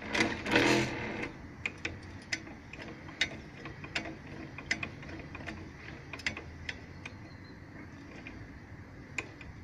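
A Podolsk sewing machine wheel spins on a recycled scrap-metal art panel, giving a steady run of ratcheting mechanical clicks and ticks after a brief louder rattle at the start, fairly close and alone.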